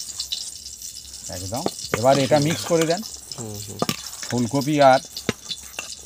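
Cauliflower and other vegetables fry in a pan for a veg dal while being stirred, with a steady sizzle and scraping running beneath clear, close talking that dominates throughout.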